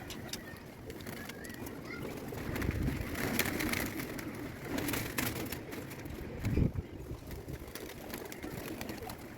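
Pigeons coo softly and repeatedly nearby, low throaty calls rising and falling over a faint outdoor background with occasional rustling.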